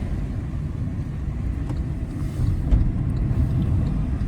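A car drives along a quiet road in Mauritius, heard from inside as a steady low engine and road rumble with a slight swell partway through, no one speaking.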